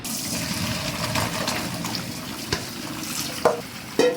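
Water gushes and splashes steadily as boiled rice ada flakes are drained, then a few sharp clanks of a pot near the end.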